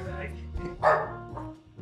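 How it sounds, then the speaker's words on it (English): Dogs bark indoors in a studio, with a couple of short barks under people talking and a louder yelp near the middle. "The dogs are barking at you."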